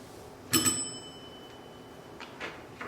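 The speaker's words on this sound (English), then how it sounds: "Every time a bell rings, it means some angels got his wings." A small bell rings with a bright double strike and a sustained high tone in a radio drama of It's a Wonderful Life, followed by a few faint softer chimes against quiet background.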